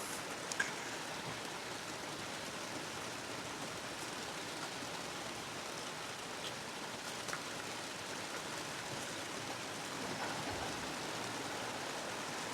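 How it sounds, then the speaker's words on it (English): Heavy rain falls on a garden, heard from inside a shed: a steady, even hiss of drops with no voices and only a few faint ticks. "it's really raining quite hard now"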